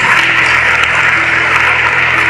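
A church congregation applauds in a dense, even stream of clapping from many hands that stays loud and steady throughout.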